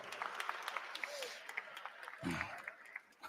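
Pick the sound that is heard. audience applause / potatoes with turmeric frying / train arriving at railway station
audience applause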